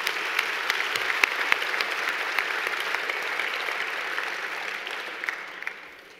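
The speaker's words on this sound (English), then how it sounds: "that is worth a round of applause" A gala audience at a corporate partner award presentation breaks into a round of applause, an even, sustained wash of many hands clapping that tapers off at the end.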